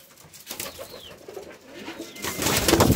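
Kalpoti pigeons cooing in a loft: soft, low throaty coos close by, rising into a denser, louder cluster of cooing and rustling toward the end, with no talking.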